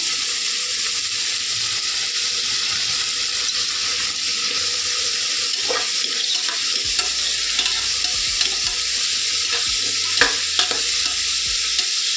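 Vegetables for a white vegetable pulao sizzle and fry steadily in a pan, a continuous close hiss with a few soft stirring clinks and scrapes, no talking.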